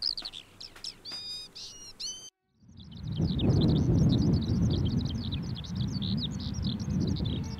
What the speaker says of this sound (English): Skylarks are born to sing. They sing on the ground and they sing in the sky.